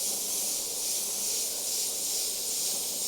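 Continuous fine hiss of an airbrush spraying paint, steady and close, lasting the whole time without a break.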